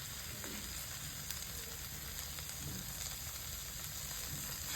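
Chicken pastil sautéing in a pan with soy sauce, paprika and sugar, giving a steady, close sizzle and hiss with faint stirring scrapes, alone.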